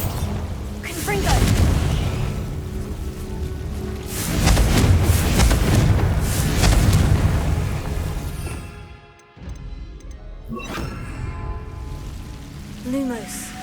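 Confringo fire blast spell cast in Hogwarts Legacy, a sequence of booming bursts and crackling blasts that rise and fall over about ten seconds, then a brief quiet gap before more impacts, with game ambience underneath.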